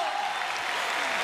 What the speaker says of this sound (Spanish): el aplauso de su público